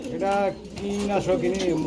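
Pigeons coo up close at a pigeon market in low, rolling, throaty calls, several overlapping bursts in quick succession.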